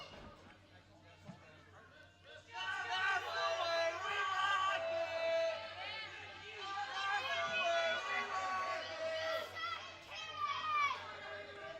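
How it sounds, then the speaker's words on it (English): A wrestling crowd roars in reaction to Kenzie Paige choking her opponent at a women's wrestling show, a dense babble of shouts and high voices swelling loudly after a quieter start and staying sustained. "The crowd letting Kenzie hear it."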